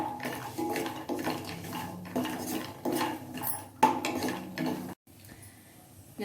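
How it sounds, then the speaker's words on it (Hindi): Cashews and almonds browning in ghee in a pan on the stove, with a spoon clinking and scraping against the metal in a steady, repeated stirring rhythm, close and moderately loud, and a brief pause near the end. "सबसे पहले हम काजू और बादाम डाल के थोड़ा हल्का इसको ब्राउन कर लेंगे।"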